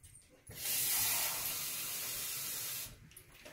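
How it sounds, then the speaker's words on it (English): Tap water pours into a glass for a batch of apple cider vinegar, a steady hissing stream lasting a couple of seconds, close and fairly loud, starting and stopping abruptly with quiet room tone on either side. "I'm going to actually fill the glass with water."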